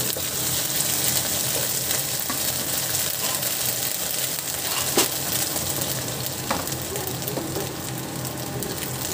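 Potatoes sautéing in a pan, a steady, dense sizzle of frying with occasional stirring scrapes, close and continuous throughout, no voices.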